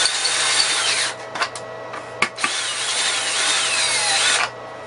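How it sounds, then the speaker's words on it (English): A step drill deburring the back of a drilled hole during an electronic load build whines steadily and close, with a few brief catches and pauses before the motor stops. "I use the step drill on the back,"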